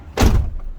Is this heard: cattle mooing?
no